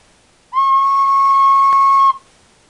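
A plastic recorder sounds one clear, steady whistle-like note with the back hole held and the other holes open, starting sharply and holding for about one and a half seconds before stopping cleanly.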